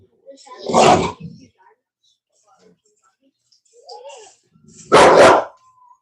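A Cane Corso gives two loud, close barks separated by a quiet pause, with faint whimpering in between.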